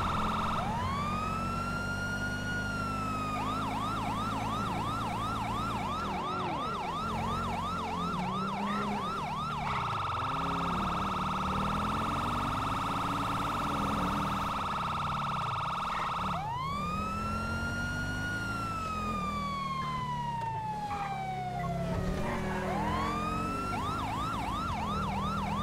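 A police car siren in the video game GTA 5 wails and yelps loudly, switching between rising-falling wail, fast yelp and steady tones, with engine noise underneath and no speech.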